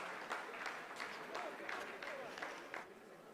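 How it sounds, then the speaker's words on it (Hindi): Scientists applauding the Chandrayaan-3 landing, a sustained wash of crowd clapping with periodic swells, heard under a voice talking over it. "जी हाँ, आप इस तालियों के गड़गड़ाहट को सुन सकते हैं"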